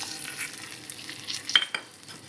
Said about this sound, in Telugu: పర్లేదు ఆయిల్లో ఫ్రై అయిపోతుంది కదా ఇది తీసి మనం ఇందులో వేసుకోండి ఇంకా ఆనియన్ ఇందులో వేసేసుకున్నాం